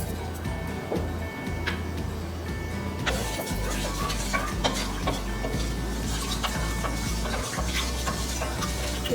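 Fenugreek seeds frying in hot oil in a pan for kadhi pakora, with a quiet start before a bright crackling sizzle sets in and continues steadily, dotted with sharp pops.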